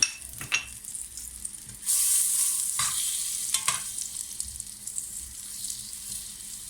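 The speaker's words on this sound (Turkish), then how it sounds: "Önce tereyağımızı kızgın tavamıza atıyoruz." Butter drops into a hot frying pan and begins to sizzle, a bright steady hiss that sets in abruptly and carries on close up, with a few scraping clicks over it.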